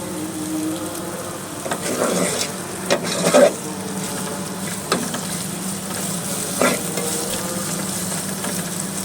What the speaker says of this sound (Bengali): আমরা পেঁয়াজটাকে এইভাবে সুন্দর করে বাদামি করে ভেজে নেব।